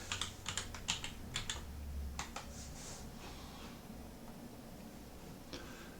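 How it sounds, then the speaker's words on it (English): Keys clack on a computer keyboard in quick bursts of typing, fairly faint and close, then a few isolated taps after a pause, with no one talking. "let's type something old"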